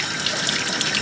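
Water runs steadily from a tap with a broad, even hiss and light splashing, close by and unbroken for the whole moment.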